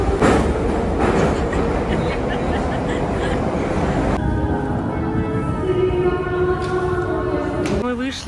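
Moscow metro train ride with a steady loud rumble of carriage and rails under a family's chatter, a rising whine appearing midway as the train changes speed.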